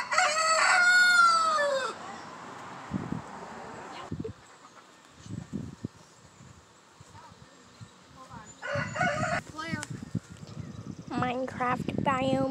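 Chickens cluck and a rooster crows loudly at close range in front of a backyard chicken coop, with the crow at the start and further clucking and fowl calls scattered through, while people talk nearby.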